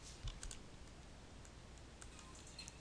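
Quiet, fast tapping on a computer keyboard as DNS server numbers are entered, a steady run of soft keystrokes over a faint background hiss.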